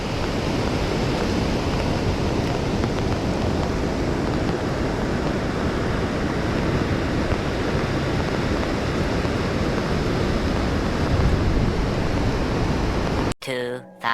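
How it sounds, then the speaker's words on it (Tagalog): Big waves crash continuously during a typhoon, a dense roar of surf mixed with wind buffeting the microphone, cut off abruptly near the end. "Grabe lalaki ng alon guys oh."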